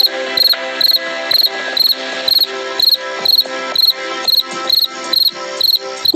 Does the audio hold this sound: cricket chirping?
yes